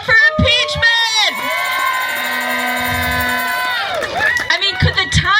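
A crowd at a political rally in Washington, D.C. cheers and whoops loudly in a sustained burst, with shouting voices over it and the noise tapering into talk at the end.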